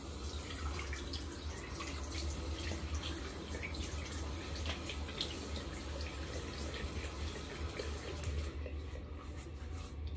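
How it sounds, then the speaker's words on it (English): A tap runs steadily into a sink while a face is wetted before shaving, a quiet continuous water rush with small splashes throughout. "I'm gonna wet my face real quick."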